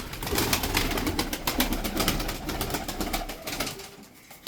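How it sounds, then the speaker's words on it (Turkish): Tumbler pigeons, a newly arrived group of about ten birds, coo softly and repeatedly close by, with faint rustling and flapping in the background. "Elimde böyle 10 parça kuş var. Bu kuşlar da yeni geldi."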